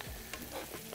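Onions frying in a pan for dum biryani, a soft, steady sizzle lasting about a second with faint stirring movement and no voices.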